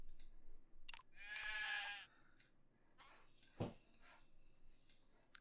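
A single clear sheep bleat in the video game Craft the World, a wavering cry lasting under a second, surrounded by faint clicks and a soft thud against a quiet background.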